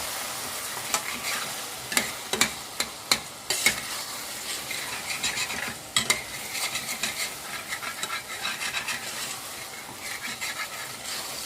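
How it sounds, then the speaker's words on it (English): A spoon stirs pea and potato curry in a pot over steady sizzling, with sharp clinks and scrapes against the metal clustered near the start and again midway, then softer stirring. "Just give it a stir."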